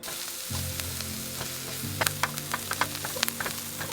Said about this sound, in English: put in a couple big chunks of butter, and then we're going to turn that on and get that really hot and cook all that through